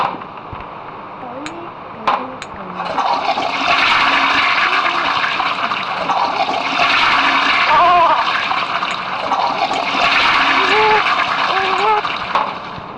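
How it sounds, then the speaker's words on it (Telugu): A toilet flushes with a long, loud rushing gush of water lasting several seconds, while a person talks over it. "టాయిలెట్లో వేసి ఫ్లష్ చేసేస్తాను"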